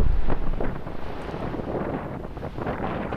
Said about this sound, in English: The enormous wind on the competition day enhanced the challenge.